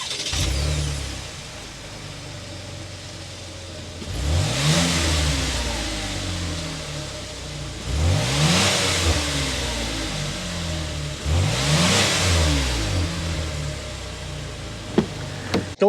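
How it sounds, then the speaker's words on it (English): A 2023 Chevrolet Blazer RS idles nearby, and the engine is blipped three times about four seconds apart. Each rev swells into a deep exhaust roar before settling back to a low idle. "start it up so you can hear that exhaust note"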